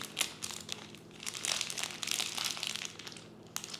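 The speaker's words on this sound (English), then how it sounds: "Let's go ahead and cut them. Cut it open." Plastic packaging for a miniature food diner toy kit is cut open, heard as close, quiet crinkling and crackling with scattered sharp snips and rustles throughout, no voices.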